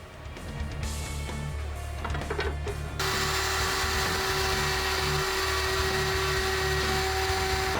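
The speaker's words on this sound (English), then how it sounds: "You can clamp your workpiece down and then just hit it with a trim router." Trim router mounted in a router table shaping a wooden closet shelf cleat: a loud, steady high-pitched whine with a rushing roar, rising in pitch and intensity partway through as the bit cuts, continuing unbroken.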